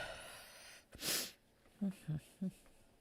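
A single sharp sneeze bursts out, followed by a few short nasal snorts or sniffles, close and fairly quiet.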